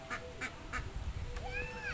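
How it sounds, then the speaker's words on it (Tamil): Frightened ducks flee across a grandmother's yard, giving a few faint, quick quacks and honks over a low rumbling background. "வாத்தெல்லாம் பயந்துட்டு ஓடுது."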